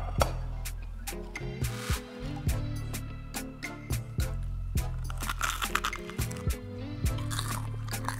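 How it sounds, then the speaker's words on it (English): Repeated loud, close crunches and chewing from biting into crispy fried onion rings, a series of sharp crackling bites spread unevenly across the stretch, with no talking. "You could hear the crunch, it's very crunchy."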